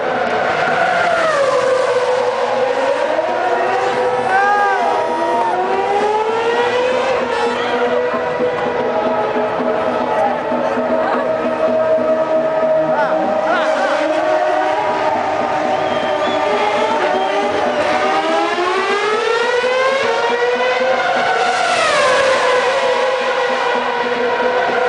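Formula 1 race car engines scream past continuously at Indianapolis, with rising and falling high-pitched whines as cars accelerate and shift, loud and sustained with a crowd faintly underneath.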